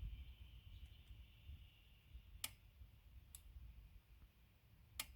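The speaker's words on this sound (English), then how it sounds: "It's a very light click on 20." Three crisp, faint clicks from an Icon 3/8-inch split beam torque wrench set to 20, spaced a second or two apart, close by, over a soft low hum with a few fainter ticks.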